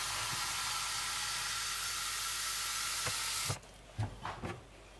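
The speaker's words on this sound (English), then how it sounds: "It's like a little water under the pan, so it crackles." Water crackles and hisses under a hot pan of broccoli, a loud continuous sizzle that stops abruptly partway through, followed by a few scattered clicks and clatters of cookware.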